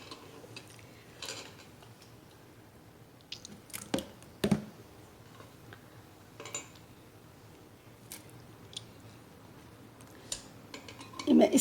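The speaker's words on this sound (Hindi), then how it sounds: "अब मैं इसको निकाल के सेव कर रही हूँ इस कंटेनर में।" Homemade yogurt made in an Instant Pot scooped out with a spoon into a storage container, with soft scattered clinks and scrapes of utensil against the pot at irregular intervals, fairly quiet overall, with a louder clatter at the end.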